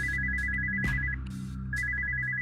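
A video game phone in a haunted-mansion horror game rings with a steady electronic trill in two bursts separated by a short pause, over a low droning background.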